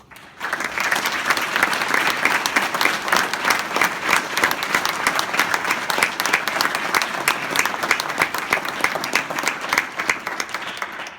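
A crowd applauds warmly at an award ceremony recognizing a paramedic, with dense, sustained clapping that holds steady for about ten seconds before fading out.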